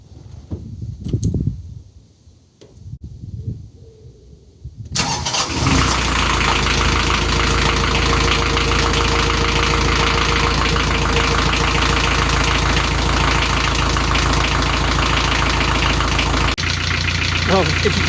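A narrowboat diesel engine, just given a full service, is cranked and catches after a few seconds of quiet movement and knocks. It then settles into a loud, steady, close idle with a constant rumbling chug.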